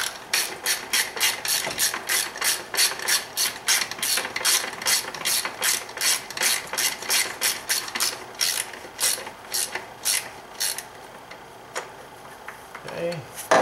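A ratchet with a swivel E10 socket clicks in rapid, even bursts while turning a fastener on a BMW 3 Series E90 oil filter housing, loud and close, pausing briefly before a few final clicks.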